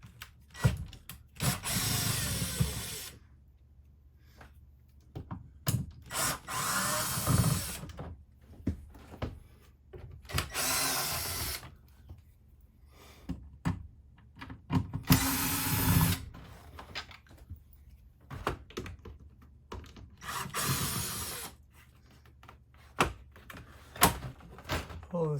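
A power drill backing screws out of an RV air conditioner unit, several loud whirring bursts of a few seconds each, separated by quieter handling noises, close by.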